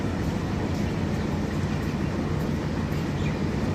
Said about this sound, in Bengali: ওই যে আসছে খুলনাগামী সুন্দরবন এক্সপ্রেস